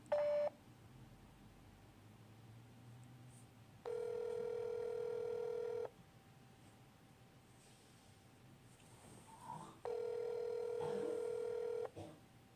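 A phone call placed through Google Voice rings twice, each long electronic tone lasting about two seconds with a quiet gap between, clear over faint background hiss.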